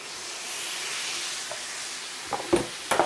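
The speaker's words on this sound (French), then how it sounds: "on met dans notre poêle des noix, un peu de sirop d'érable" Nuts coated in maple syrup sizzle in a pan, a steady close hiss with a few sharp clicks and scrapes toward the end as the mixture is stirred.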